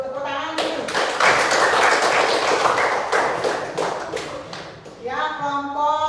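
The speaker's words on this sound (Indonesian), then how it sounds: "silakan duduk, tepuk tangan dulu" A school class applauds after a group presentation, with about four seconds of dense, close hand clapping framed by a voice speaking before and after.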